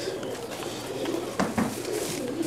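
Giribaz pigeons coo continuously in a crowded loft, soft throaty calls overlapping at close range with a couple of louder coos standing out.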